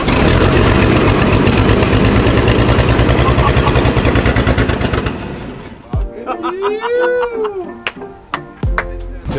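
Old WW2 army truck engine abandoned for 30 years chugging and rattling loudly for about five seconds before cutting out, followed by excited voices talking.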